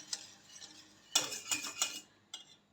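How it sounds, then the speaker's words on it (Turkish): Spoon scraping and clinking against a pot while milk pudding (muhallebi) is stirred during cooking, a few quiet irregular metallic taps and scrapes with short gaps between them. "muhallebimizin sürekli karıştırıp da pişirilmesi lazım arkadaşlar"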